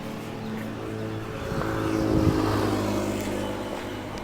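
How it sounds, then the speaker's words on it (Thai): A water pump on an agricultural spray drone hums steadily while running, a continuous close mechanical drone that swells slightly midway. "ฟังเสียงปั๊ม ปั๊มทำงานครับ"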